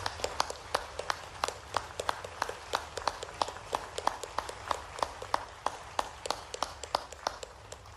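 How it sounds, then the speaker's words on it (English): A small outdoor crowd at a Veterans Day wreath-laying ceremony gives sparse, distinct claps, each crisp hit standing apart at a quick, even pace over low background noise. "please join me in recognizing our veterans' national leadership with your applause"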